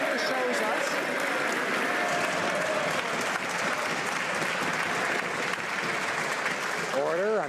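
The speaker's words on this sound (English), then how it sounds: "I'm sure the minister appreciates the applause deeply" Members of parliament applaud and desk-thump during Question Period in the House of Commons, a dense sustained clatter of clapping with voices mixed in and a speaker's voice breaking through at the end.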